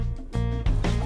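A hen clucks in two or three short, throaty bursts, close and fairly loud, with no talk over them.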